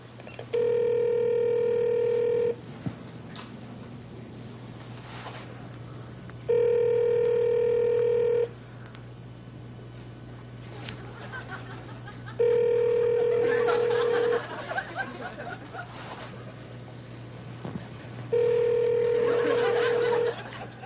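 Ringback tone on an outgoing telephone call, four evenly spaced two-second rings separated by quiet gaps of about four seconds, with faint background murmur between them.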